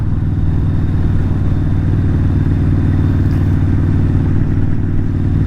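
A Kawasaki VN 1600 Mean Streak's 1600cc engine rumbles steadily through its exhaust, a loud, close, continuous low throb with a fast even pulse and no voices.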